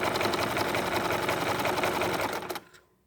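Rope bowl with sari silk ribbon being stitched on a sewing machine that runs continuously and loudly up close, then abruptly stops and leaves near silence.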